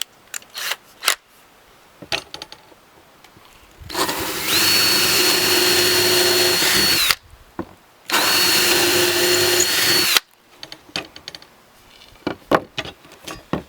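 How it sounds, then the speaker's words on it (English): A power drill whirs loudly in two sustained bursts of about three seconds each while drilling holes in a Walker Edison DW48D30 desk, with scattered clicks and handling knocks before, between and after. "now I've matched up the right size drill here for these holes"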